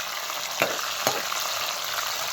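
Onions frying in a pan, a constant close crackling sizzle with two brief scraping stirs of a spoon and no voices.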